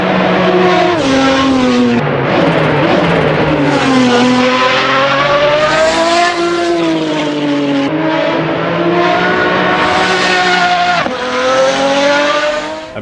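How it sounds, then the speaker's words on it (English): A Pagani Zonda R racing around the Adelaide circuit in a driving game, its engine screaming loudly and continuously as it climbs and drops through the gears, with brief dips on shifts and a faint tire squeal. "I'm here in the Zonda R, which is not a road car, but it kind of is."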